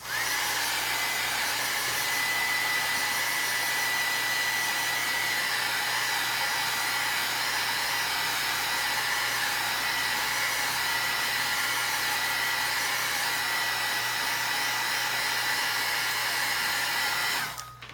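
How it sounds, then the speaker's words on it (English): Heat gun blowing hot air over a paper craft tag, a steady loud whooshing hum holding evenly for the whole length before cutting off at the end, with no talk. "Let me hit it with the heat gun"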